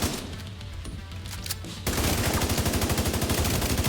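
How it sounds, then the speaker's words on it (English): Gunfire in The Division 2: a few scattered shots, then a loud, sustained burst of rapid automatic fire that hammers on steadily to the end, with no voices. "Keep popping shots into him."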